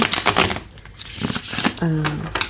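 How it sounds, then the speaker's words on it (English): A tarot-style card deck is shuffled by hand, giving close, crisp riffling and flapping bursts in quick irregular clusters, with someone speaking briefly over the end. "The cards are easy to shuffle."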